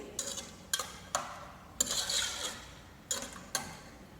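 A spoon stirs tomato sauce in a pot. About six distinct metallic clanks and scrapes come at irregular intervals, each followed by a short rasp of the spoon along the pot, close and fairly quiet.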